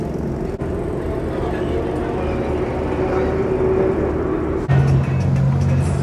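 A BMW M3 engine at Spa-Francorchamps during a car meet, a steady loud mechanical drone that holds throughout with a brief shift near the end.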